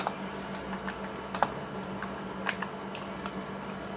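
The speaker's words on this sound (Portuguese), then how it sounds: "Então a gente vai apertar Enter aqui." Computer keyboard keys tapped while coding, a few scattered close clicks over a steady fan hum, with one slightly sharper press standing out among the light taps.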